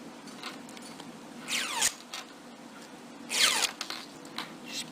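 Curly ribbon strands on a crocheted Christmas icicle are pulled firmly against a scissors blade, giving two quick rising swishing scrapes a couple of seconds apart in a quiet room.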